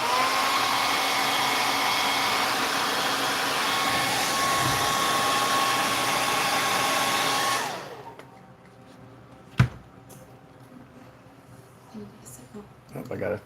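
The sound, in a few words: hair dryer blowing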